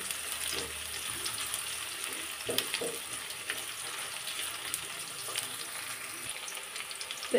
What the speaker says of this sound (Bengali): আর দারুচিনি এলাচ দিয়ে দিলাম। তো এখন এগুলো একটু ভাজি করে নিতে হবে তেলে।